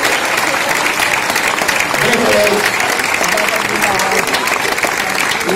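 Loud, dense crowd applause at an outdoor festival performance in Tivissa, steady rapid clapping from many hands with some voices mixed in throughout.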